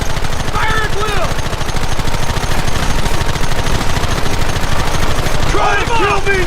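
Rapid machine-gun fire rattles continuously in a Wild West shootout, a loud, dense stream of shots, with brief whistling or ricochet-like tones cutting through near the start and end.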